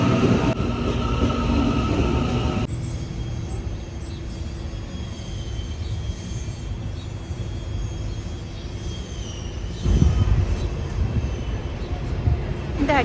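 An out-of-service train idles at a station platform in Auckland, a steady low rumble and mechanical hum with a faint high whine, shifting slightly as it sits, with no talking over it.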